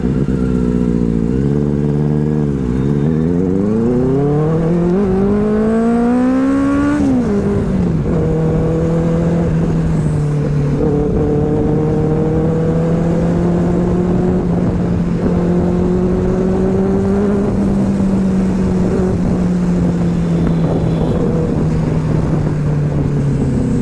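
A Benelli 600i motorcycle engine revs loud and close, climbing through several quick throttle blips before settling into a sustained high, rough drone that wavers slightly in pitch, with no talking over it.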